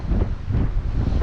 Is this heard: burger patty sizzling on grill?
no